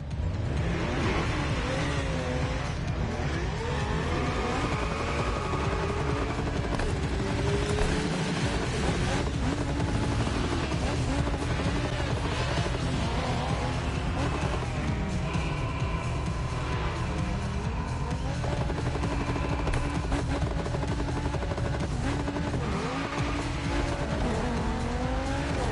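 Race cars in a NASCAR video game roar continuously with steady engine drone, shifting pitch as they accelerate, with occasional tire squeal and whooshing passes throughout.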